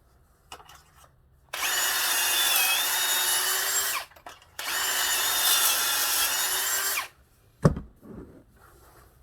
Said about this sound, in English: I'm telling you, get this drill.